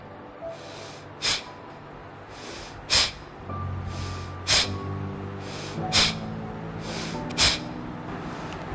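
Deep belly breathing exercise: forceful nasal breaths repeat about every one and a half seconds, each a sharp sniff or snort-like rush of air, close and loud, with soft background hum and no speech.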